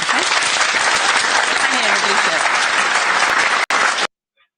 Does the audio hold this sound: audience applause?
yes